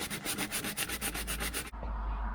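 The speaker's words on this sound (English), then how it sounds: "swapping the sandpaper around so that the bits you're sanding off don't fill up the sand" Rhythmic scratchy strokes of sandpaper hand-sanding a Ford Fusion's car body, about a dozen quick passes close up, then the rubbing stops and a low hum remains.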